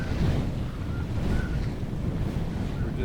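Steady wind buffets the microphone over rushing waves and water noise as a Compac 23 sailboat moves under trimmed sails, a constant loud wash with no clear talk.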